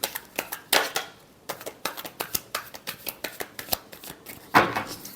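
Tarot cards being shuffled by hand, a quick run of crisp riffling flicks and taps in an uneven rhythm, close and clear with no talking.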